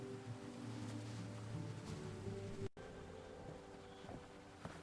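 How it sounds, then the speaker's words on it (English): Steady, gentle wash of flowing water beside a footbridge in a forest, a continuous near rush with no voices and a brief dropout partway through. "Listen to the water."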